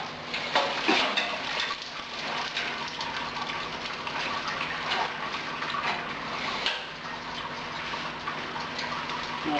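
Water gushes from a large jar of corn mash with malted corn, a fairly quiet, continuous pour with small ticks and splashes along the way.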